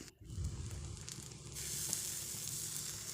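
Thick rava dosa batter sizzles steadily on a hot pan, a continuous soft frying hiss that grows slightly brighter partway through, with no voices.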